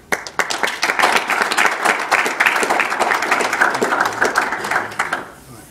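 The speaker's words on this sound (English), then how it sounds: "So with a round of applause, I'd like to welcome to the stage." A lecture-hall audience breaks into loud, close applause to welcome a speaker to the stage, dense clapping building quickly, holding steady, then tapering off at the end.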